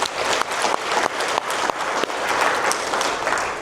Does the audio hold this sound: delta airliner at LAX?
no